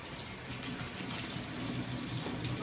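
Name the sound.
washing harvested eggplants under running water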